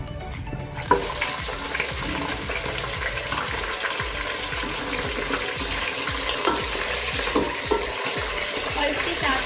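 Chicken pieces hitting a hot pan with whole garam masala spices (cinnamon, black cardamom, green cardamom and cloves), a loud sudden sizzle that settles into steady crackling frying with stirring scrapes.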